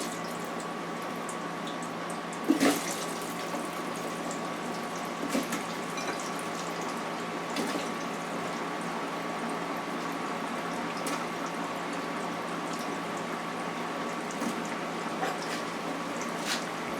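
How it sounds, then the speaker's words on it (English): Sweet potato fries sizzle in a home deep fryer, a steady hiss and bubble of hot oil with a few soft pops and clinks, constant and even throughout. "It's frying, so I'm going to put the rest in."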